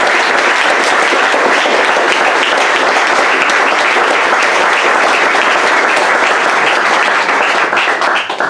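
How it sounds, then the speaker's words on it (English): A roomful of guests at a tribute dinner for an athletics figure gives long, loud, sustained applause, dense clapping that holds steady throughout and only begins to ease at the very end. "Round of applause for Charlie."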